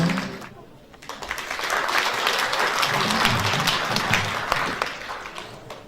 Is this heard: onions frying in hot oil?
no